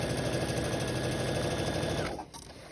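A sewing machine quilting along a thick ruler runs in a fast, steady mechanical whir that cuts off abruptly near the end and leaves a brief quiet tail.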